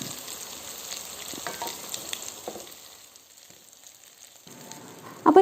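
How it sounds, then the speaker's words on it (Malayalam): Broken wheat snack pieces frying in hot oil give a soft, steady sizzle that fades to near silence, then returns, with a sharp utensil clatter at the very end. "ഞാൻ ഇത് ഓരോന്നായിട്ടിട്ട് ഫ്രൈ ചെയ്തെടുക്കുകയാണ്"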